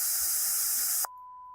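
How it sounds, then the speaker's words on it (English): Broadband white noise at full peak level, loud and steady hiss for about a second, then cut abruptly to near silence, leaving only a faint thin tone. "White noise is played at its full peak level."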